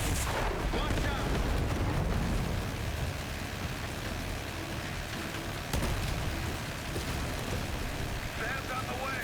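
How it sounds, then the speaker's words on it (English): Missiles fire in the Call of Duty Black Ops 6 campaign, a dense, loud wash of rumbling blasts and roaring explosions that stays heavy throughout, with game voices mixed in underneath. "Firing missiles."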